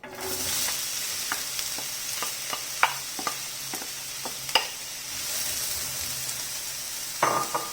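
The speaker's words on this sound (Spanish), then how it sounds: "En una sartén he colocado un poco de aceite vegetal y vamos a colocar la cebolla." Chopped onion fries in vegetable oil in a pan, giving a steady, soft sizzle with occasional sharp clicks of stirring against the pan, without any talk.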